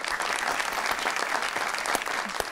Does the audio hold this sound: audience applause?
yes